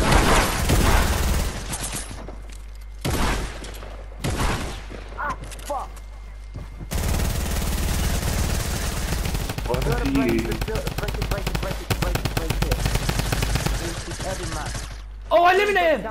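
Bursts of rapid automatic gunfire and single shots in the video game Fortnite, loud and close, come in short clusters separated by gaps, with excited players talking over parts of it.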